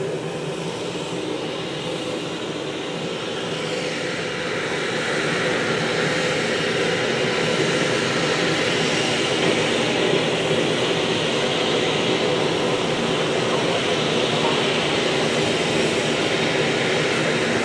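A steady, loud roar of an aircraft engine spooling up on the field at a Canada Day vintage airshow, a broad continuous drone that builds slightly and holds for the whole stretch.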